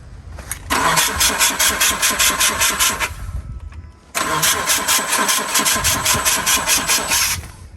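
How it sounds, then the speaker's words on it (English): A boxer engine cranks and catches twice, running with a loud, close, pulsing idle each time before it dies, with a short gap between the two attempts. "It starts, then it dies."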